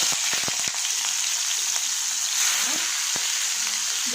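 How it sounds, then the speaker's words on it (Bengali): Chopped onion and black cumin seeds hit hot oil in a pan with a bright, continuous sizzle, punctuated by a few sharp crackles and clicks of stirring. "তেলটা গরম হয়ে গেছে, দিয়েছি কালো জিরে ফোড়ন, দিয়ে দেবো পেঁয়াজ"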